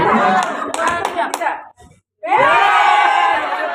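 A group of people, likely teachers at a school training session, clap in a loud, dense burst with voices mixed in. After a short gap the sound resumes as crowd noise and talk.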